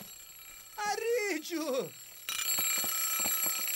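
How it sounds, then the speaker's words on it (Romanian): In a KikoRiki cartoon, a shrill, continuous alarm clock rings loudly and steadily through the last half after an animated voice calls out; the ringing stays on without a break. "Te rog, închide alarma, că nu mai suport!"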